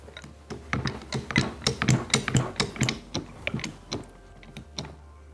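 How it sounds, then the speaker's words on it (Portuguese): A ratcheting spring compressor clicks in quick repeated bursts while compressing the front strut spring of a 12th-generation Toyota Corolla, close and fairly loud, slowing and fading toward the end. "Então vamos realizar o encolhimento de mola."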